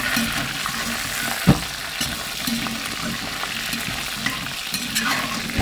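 Pork ribs sizzle and fry in a cast iron pan as sweet and sour sauce goes in, a steady close crackle broken by a sharp splash and scattered pops.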